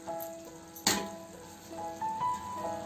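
Tamarind gravy simmers and sizzles softly with ivy gourd curry in a pan, a steady low crackle broken by one sharp clink or splash near the start.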